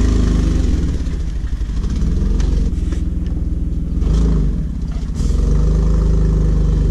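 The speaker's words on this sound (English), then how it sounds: "I'm gonna start the Jeep up" A 2012 Jeep JKU engine with a freshly swapped clutch runs loud and close in a steady, even drone, dipping briefly in level twice before settling back to a constant rumble, with no talking.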